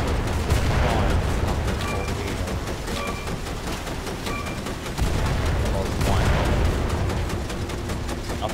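Naval guns fire aboard an Imperial Navy warship in the War Thunder video game, with heavy booming blasts around the start, near 5 seconds and near 6 seconds over a constant loud rumble of battle and engine noise.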